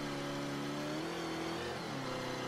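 A car in Mafia 3 gathers speed sluggishly, its engine whine climbing gradually in pitch under a steady hum, with no talking.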